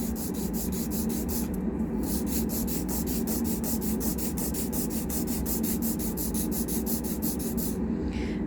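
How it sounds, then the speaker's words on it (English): A fingernail filed with a nail file held at an angle, giving a steady close-up rasping scrape that runs continuously with rhythmic strokes and no talking. "hold your file a bit angled like this towards you, and then file."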